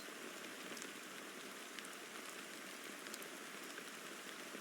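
Steady, dense rain pattering as an in-game sound effect in Honkai: Star Rail, with a continuous hiss of falling drops and faint scattered droplet ticks, at an even level and with no voices.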